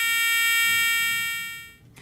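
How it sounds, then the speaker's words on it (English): A moving buzzer's steady high-pitched electronic buzz holds one tone, loud at first and then fading away over about two seconds as if moving off. "The buzzer isn't changing the note that it makes, it's the movement relative to the observer that's important."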